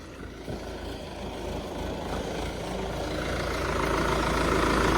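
A tractor engine runs steadily with a super seeder attached in a field, a loud continuous diesel drone that grows slightly louder over the few seconds, with no talking.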